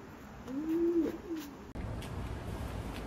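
Pigeons in a racing-pigeon loft give a soft, low cooing call that swells and fades over about a second, heard up close amid quiet room noise, followed by a brief shift in background sound.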